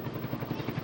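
A helicopter flying over a downtown San Mateo military parade, its rotor chopping in a rapid, steady beat, fairly loud and continuous through a brief moment.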